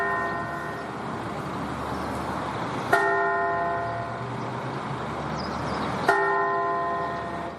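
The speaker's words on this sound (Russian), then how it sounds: "Звон колоколов, часы бьют ровно 10" Church bells and a clock striking ten in Kazan at the start of a Victory Day anniversary parade on Freedom Square: two loud, resonant bell strokes about three seconds apart, each ringing out over a low outdoor hum.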